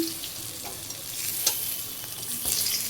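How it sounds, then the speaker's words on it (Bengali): A hilsa fish head frying in hot oil, a short stretch of steady hissing sizzle with a few soft pops and a brief clatter near the end. "ইলিশ মাছের মাথাটা ভালো করে ভেজে নিয়েছি"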